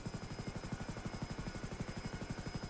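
A helicopter in the GTA RP video game thrums with a steady, rapid rotor chop and a constant high whine, sounding close and continuous throughout.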